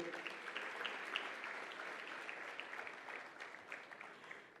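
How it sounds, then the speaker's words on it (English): Audience applause at a Merck Foundation conference, a steady wash of many hands clapping that continues throughout and tapers slightly at the end, moderately distant. "Another round of applause, ladies and gentlemen."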